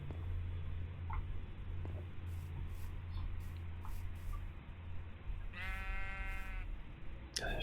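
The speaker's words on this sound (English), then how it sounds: "Sheep on the roof" Sheep bleating in the Minecraft video game, a single clear harmonic bleat rising over steady low game ambience, moderately close with faint scattered clicks around it.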